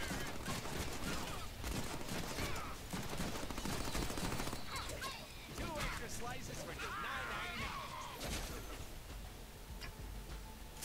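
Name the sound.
shotgun gunfire in Deadpool video game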